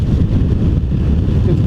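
A 2016 BMW F800GS motorcycle pulls harder as the throttle is rolled on in fifth gear from just under 3,000 RPM, a steady, loud low engine drone mixed with heavy wind rush over the microphone.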